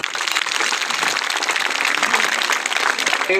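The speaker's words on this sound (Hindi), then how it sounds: "एक बार जबरदस्त ताली बजा दो" An audience at an office inauguration event claps loudly and continuously, a dense crackle of many hands that holds steady throughout.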